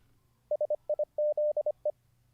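A rapid series of short, clean electronic beeps at one pitch, some clipped and some held longer, spelling out Morse code letters in dots and dashes.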